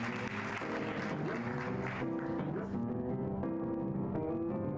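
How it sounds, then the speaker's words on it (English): Applause sound in the Kusogrand8 PC video game demo, a continuous clapping wash layered with tonal game music, steady and dense throughout without speech. "We just gotta wait for the applause,"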